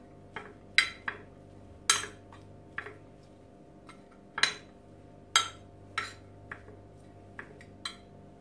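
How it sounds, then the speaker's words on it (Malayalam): A spoon clinks and taps against a bowl while pepper powder and salt are mixed into a sandwich filling: a string of sharp, close ticks at an irregular pace over a quiet background, with no talking. "ഇനി ഇതിലേക്ക് ഒരു പിഞ്ച് കുരുമുളക് പൊടി നമുക്ക് നന്നായി മിക്സ് ചെയ്തെടുക്കാം."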